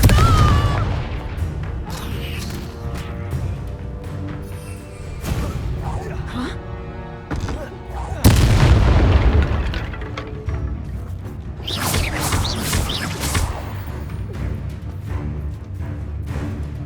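Fiery Confringo spell blasts in the Hogwarts Legacy video game: several booming explosive bursts, one especially loud near the middle, layered over a dense, continuous wash of game sound and music.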